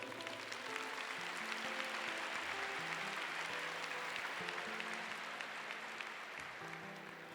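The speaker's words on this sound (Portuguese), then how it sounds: "Vamos aplaudir nossa irmã." Sustained applause from a congregation at a Catholic Mass fills the church, steady and fairly loud throughout, with faint music tones beneath.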